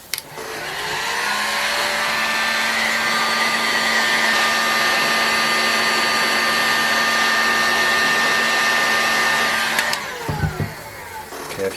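A heat gun runs steadily for about ten seconds, heating the bearing housing of a Fox 25BBRC fork, a loud continuous blowing whine with a steady tone, then shuts off and spins down near the end.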